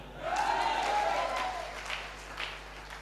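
A crowd applauds briefly with scattered, fairly subdued clapping that fades as a voice comes in.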